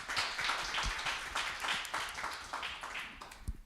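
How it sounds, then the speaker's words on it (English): Audience applause at a panel event closing keynote honoring Dr. Dianne Saxe, a moderate, fairly even patter of clapping lasting several seconds with a few louder individual claps near the end. "A round of applause for her."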